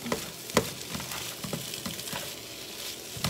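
An egg mixture with cheese is stirred in a pan, giving a soft, steady sizzle with faint scraping strokes and one sharper clink early on. The sounds are quiet and close, and no one speaks.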